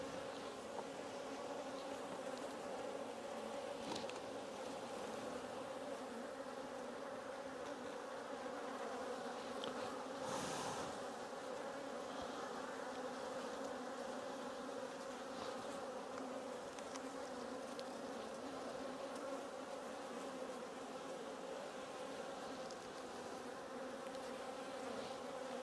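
Honey bees swarming around an open hive, a dense steady buzz that stays close and even throughout, with one brief louder whoosh midway and no talking.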